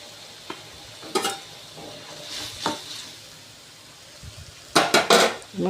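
Boiled beans for usal, with crushed peanuts added, stirred in a pot: a few sharp metal scrapes and clatters of a ladle against the pot arrive in bursts over a quiet background, the loudest cluster near the end.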